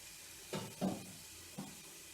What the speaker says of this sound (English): you don't want to saute this for too long, but nonetheless the mango has to cook